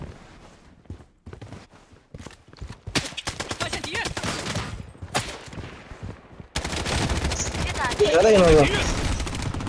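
Rapid SMG bursts in the Blood Strike shooter game, close and sharp, firing in short clusters then a longer sustained volley, with a voice speaking briefly between shots.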